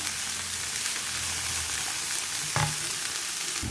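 Onions and other ingredients sizzling loudly in a hot pan while being stirred, a continuous dense crackle with a brief clank of the spoon partway through, no voices.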